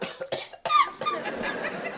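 Coughing in an indoor comedy setting: a few short, sharp cough bursts close to the microphone, separated by brief pauses, with no speech over them.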